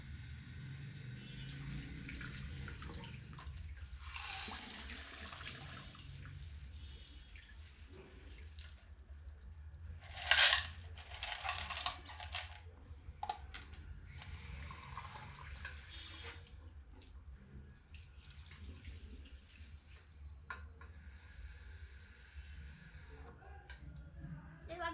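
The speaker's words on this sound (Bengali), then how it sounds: "হ্যান্ড ওয়াশ রয়েছে আমার, সেজন্য আমি একটু ধুয়ে নেব।" Water runs from a tap while hands are washed with hand wash at a sink, a quiet, uneven trickle and splash that comes and goes, with one brief louder burst midway.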